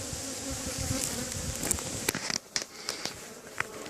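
Honeybees buzz steadily around a hive entrance in fall as foragers return with full pollen baskets, a close, continuous insect drone with a few sharp crackling ticks.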